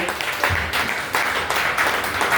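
A church congregation applauding in worship, a dense sustained wash of many hands clapping together, swelling in steady bursts with no break.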